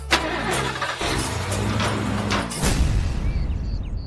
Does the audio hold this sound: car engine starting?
yes